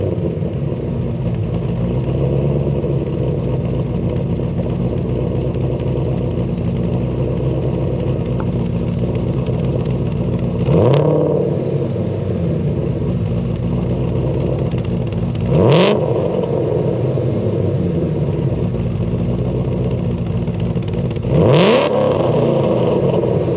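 A cammed Ford GT500 idles with a loud, choppy, lumpy rumble, broken by three sharp revs spaced several seconds apart, each rising quickly and falling back to idle.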